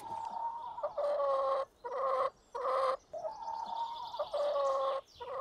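Chickens clucking and squawking up close, repeated bursts of throaty calls with short pauses between them.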